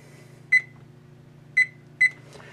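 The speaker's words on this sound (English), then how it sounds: "we're going to set the range, and it's 350 degrees" An electric range oven control gives three short, clear electronic beeps as it is set to 350 degrees, the first alone and the last two closer together, over a low steady hum.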